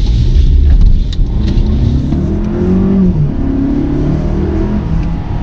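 A 2018 Volkswagen Tiguan S 4Motion accelerating in sport mode, with a steady, loud engine drone and a low rising whir held at high revs, heard from inside the cabin with no talking.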